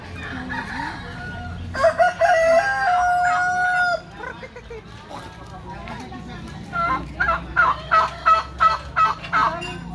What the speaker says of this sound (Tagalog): Ang dami namang manok ni Lolo.